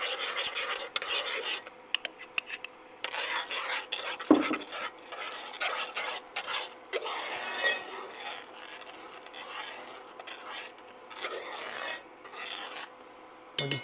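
A whisk or spoon scrapes and stirs thickening Italian creme pastry filling in a pot, producing a steady close scratching and rubbing with occasional clinks against the metal.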